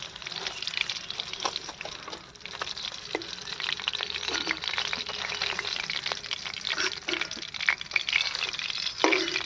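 Small sarpunti fish frying in hot oil for a Bengali mustard-poppy curry, a steady dense sizzle with crackling pops throughout, close and loud, with no talk.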